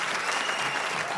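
Comedy club crowd at Webster Hall applauding and cheering, a steady dense wash of clapping that holds at an even level for the whole brief moment, with no talk over it.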